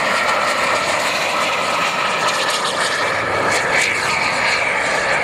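F-4 Phantom jets take off at an air show in Kentucky, a loud, steady roaring jet engine rumble with a dense hiss that persists throughout without any pause.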